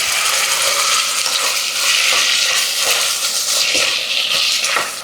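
Onions and tomatoes sauté in a pan for biryani, with loud, continuous sizzling broken by repeated scraping and clicking as they are stirred.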